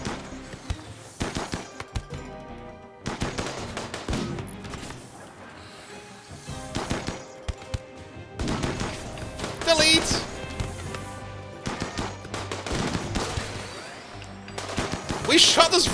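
Rapid bursts of video game gunfire while raiding asteroids in a space game, loud sharp volleys coming in repeated clusters with brief pauses, some voices underneath.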